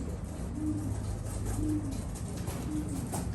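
Caged purebred Trenton racing pigeons, a hen and a cock bird, give three soft, low, rolling coos at a steady pace over a quiet background hum.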